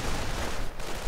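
Sustained suppressing gunfire from the real-time strategy game Company of Heroes, aimed at pinned Panzer Grenadiers, forming a dense, continuous crackle of rifle and machine-gun fire with no pauses and no voices.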